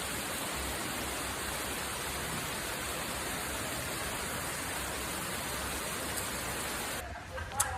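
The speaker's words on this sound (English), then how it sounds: "it is lashing rain" Heavy, lashing rain in warm Jamaica pours as a dense, steady hiss that fills the whole stretch and cuts off abruptly just before the end.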